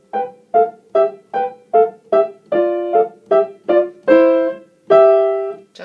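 A piano plays a line of detached staccato quarter notes with tenuto stresses, about a dozen clear, evenly spaced notes close up, the last few held noticeably longer; no talking.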